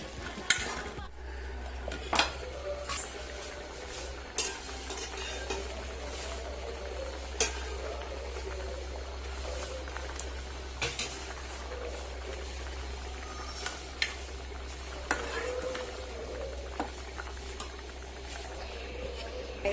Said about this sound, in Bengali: আমার আলুটা অনেক কষানো হয়ে গেছে, এখন আমি দিয়ে দেবো টমেটো।